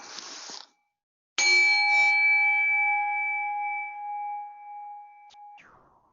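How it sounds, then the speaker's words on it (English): A meditation bell is struck once after a short burst of noise and a pause. Its clear metallic tone rings out loud and close, then fades slowly over several seconds before a soft rustle at the end. "And when you hear the end of that bell"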